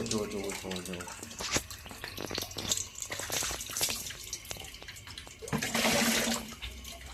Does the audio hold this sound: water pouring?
yes